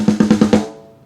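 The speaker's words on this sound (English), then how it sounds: "a single stroke roll sounds like this," Five evenly spaced drum strokes in a quick single stroke roll, each ringing briefly, with the tone decaying after the last hit.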